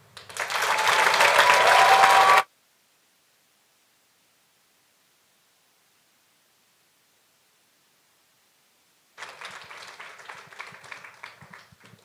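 A university speech showcase audience applauds a finalist in a loud, dense burst of clapping that cuts off abruptly, followed by silence and then a second, fainter round of scattered clapping.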